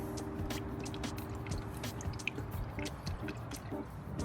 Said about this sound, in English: the check bolt is slightly draining or slightly dripping out